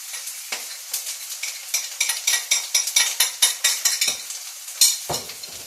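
Coriander being stirred into ginger, garlic and onions sizzling in a pan for a paneer and spinach curry, with a steady fry hiss and repeated rhythmic scraping strokes of a spoon against the pan, close and fairly loud, no talk.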